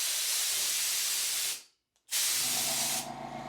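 A California Air Tools air compressor cycles on: a loud broadband air hiss, a brief silence, then the hiss resumes over a low motor hum that carries on alone as the hiss eases. Close, with no talk.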